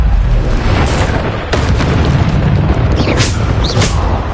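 A Bombarda blasting spell goes off in Hogwarts Legacy: booming explosive bursts strike over a dense, continuous rumble of spell effects and combat noise, loud and close, with no talking.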